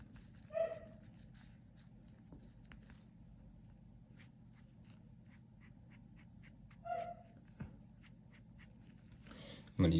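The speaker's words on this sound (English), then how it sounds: "If you guys hear the huskies in the background" Faint husky whines come from a distance, two brief high whimpers separated by a long pause, over quiet room noise and light scratching.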